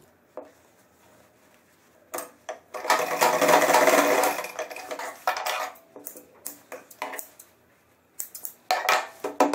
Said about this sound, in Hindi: तब ये हम सिलाई लगा देंगे